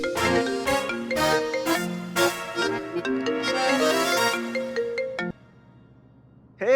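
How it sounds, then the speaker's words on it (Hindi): A mobile phone ringtone plays loudly as a repeating melodic tune for about five seconds, then cuts off abruptly into near silence before another sound starts at the end. "कौन फोन कर?"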